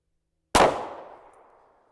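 A single pistol shot fired at an outdoor shooting range while zeroing a red dot sight: one sharp, loud crack that rings out and fades over about a second and a half.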